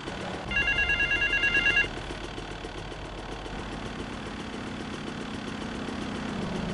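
A payphone rings in Grand Theft Auto: Vice City, a fast electronic trill repeating for about a second and a half over a steady engine idle, then stopping while the engine hum continues.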